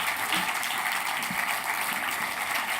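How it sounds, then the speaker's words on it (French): A steady crowd applauding at a press awards ceremony, dense continuous clapping at an even level throughout. "On peut applaudir la rédaction régionale du Nieuwsblad."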